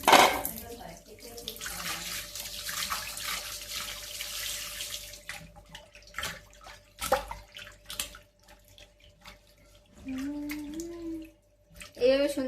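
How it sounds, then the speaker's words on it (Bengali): Tap water runs steadily into a sink while fish is being washed with lemon, a broad loud rush for the first few seconds that then fades into quieter trickles, splashes and clatter, with someone speaking over the later part. "এভাবে মাছ ধুতে থাকবা"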